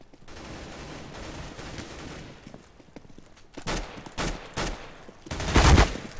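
Gunfire in Counter-Strike: Global Offensive, starting as a faint, busy patter, then several sharp, loud bursts of rapid shots, the heaviest and closest coming last.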